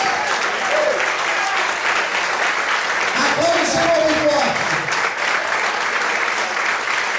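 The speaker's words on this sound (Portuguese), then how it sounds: "aplauda e glorifica o Senhor nesta manhã" Church congregation applauding during a Sunday morning service, a dense, steady wash of clapping that fills the whole stretch, with a voice speaking over it near the middle.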